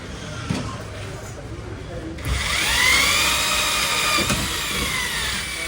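A power drill whines loudly and steadily, its pitch shifting as it bores a hole for a pipeline in a shop, with voices talking around it.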